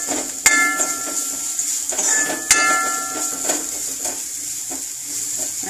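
Cumin, garlic and chili powder fry in a pan for wood apple rasam, a steady sizzle with a few sharp metal clinks and scrapes as the spoon stirs them, close and fairly loud.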